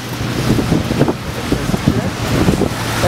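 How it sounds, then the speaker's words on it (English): Gusty street wind in Amsterdam buffets the microphone with a low, uneven rumble, and faint voices come and go beneath it. "it's windy, right?"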